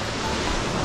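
Ocean waves breaking along a seaside stretch of the Shikoku pilgrimage walking path, a steady broadband wash of surf with wind, continuous and fairly loud, no voices.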